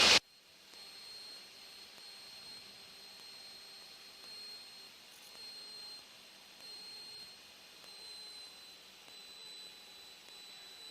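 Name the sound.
light aircraft engine in flight at lower RPM setting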